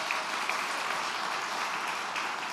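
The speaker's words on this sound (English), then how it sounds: "A round of applause, please." At a memorial gathering for Steve Post, an audience breaks into steady, even applause, with many hands clapping at moderate distance in a continuous wash for under three seconds, without voices.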